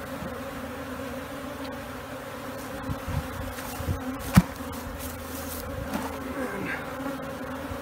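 A swarm of honey bees drones steadily at an urban backyard hive after being placed in it with their queen, a dense continuous buzz of many insects nearby, with a few sharper bumps and clicks over the hum and no talking.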